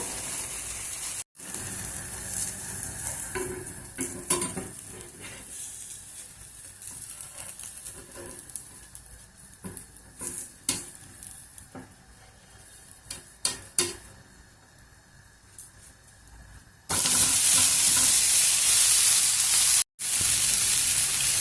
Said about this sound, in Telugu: ఇప్పుడు ఇంకా పూర్తి దోశ వేసిన తర్వాత హైలో పెడితే తొందరగా బాగా ఎర్ర కాలుతుంది.